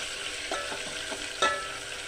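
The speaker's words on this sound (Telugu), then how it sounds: "ఉల్లిగడ్డ వేగిన తర్వాత కొంచెం అల్లం వెల్లిపాయ పేస్ట్ వేసుకున్నాను" Onion with ginger garlic paste frying in a pan, a soft continuous sizzle broken by a few quick stirring scrapes and one sharper clink, close and without talk.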